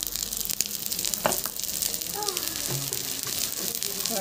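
Turmeric hits sizzling garlic ginger paste in a pan, giving a close steady fry hiss with small stirring clatters and a soft voice mixed in briefly.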